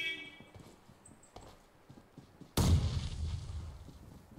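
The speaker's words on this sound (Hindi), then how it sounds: "बॉम्ब ग्रेनेड है, ग्रेनेड है, मत जाओ।" A grenade explodes in PUBG Mobile, a single loud, close blast that bursts in suddenly after quieter game sounds and rumbles away over the next couple of seconds.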